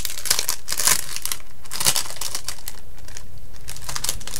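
Dense, close crinkling and rustling of mail parcel packaging being torn open, with loud bursts of crackle at intervals, no talking.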